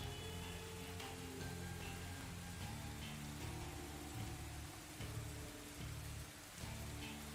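Heavy rain pours down outside, a thick continuous hiss of drops on surfaces with a low rumbling undertone and faint gusts, steady and unbroken for several seconds with no voices.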